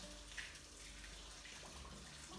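Boiling water pours from a kettle over a cloth in a colander in a kitchen, a faint continuous splashing trickle with no talking.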